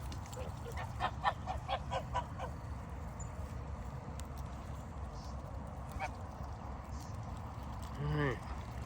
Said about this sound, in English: Sounds like a duck fight.